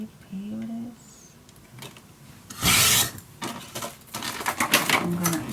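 Scissors or a paper trimmer cutting a 1.5 inch paper strip for a scrapbooking mini album. A short, loud rasping cut sounds close by, with quieter handling noises and some talk around it.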